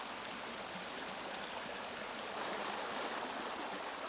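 A narrow forest stream flows steadily with a soft, continuous rush and trickle. The sound is even and moderately faint, with no voices.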